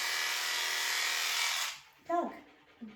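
Electric clippers buzzing steadily through a small dog's fur at a grooming session, a close continuous whir that stops partway, followed by brief voiced sounds.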